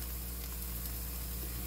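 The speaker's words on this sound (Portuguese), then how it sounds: "Tá fritando." Corn couscous batter fries in a pan with a steady, dense sizzle, close and continuous throughout with no talk.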